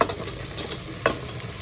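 Marinated soybean pulao mixture with onion and red chilli powder is stirred in a hot pan. Soft sizzling runs throughout, broken by a few sharp spoon scrapes and taps. The sound is close and unvoiced.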